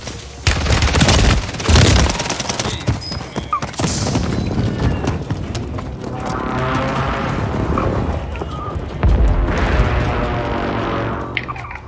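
Rapid bursts of automatic gunfire and heavy impacts in the Warzone video game, loud and dense, crackling almost continuously throughout with a few sharper booms near the start.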